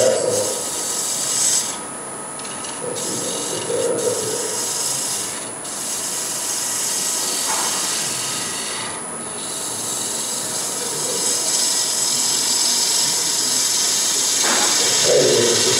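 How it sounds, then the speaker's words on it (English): A spindle gouge cuts wood on a lathe while a Celtic wedding goblet is being turned: a continuous close, loud scraping hiss that swells and eases with the strokes over about sixteen seconds, with no talk. "So yeah, I use a spindle gouge. Oops, no, I took a big cut out of that"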